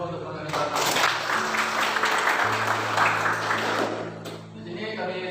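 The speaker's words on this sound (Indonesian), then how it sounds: "kasihkan tepuk tangan yang penuh untuk teman kami Sarah" Applause for a presenter at a school group presentation, a dense patter of clapping from a small audience over a steady hum, fading slightly toward the end.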